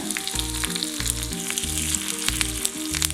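Mustard seeds, chopped shallots and broken dried chilli frying in hot oil for a chicken curry, making a loud, constant crackling sizzle up close under a repeating background music beat, with no talking.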